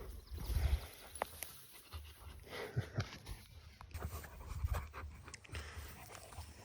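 A dog named Luna pants in quick rhythmic bursts while playing rough with another dog outdoors on a farm, near and moderately loud, with faint hoof-like clopping and scuffling in the background.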